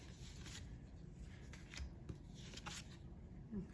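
A stack of small paper craft cards from a crafting kit is flipped through quickly, making close, quiet riffling and fluttering in short bursts over a low background hum.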